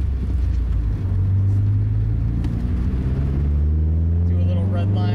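Manual-transmission car pulling away from a stop, with a loud steady engine drone that rises in pitch as it accelerates. Someone talks over the engine.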